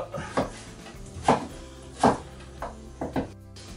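Potatoes chopped into small one-centimetre cubes with a knife on a board, five or six close, crisp knocks at an uneven pace.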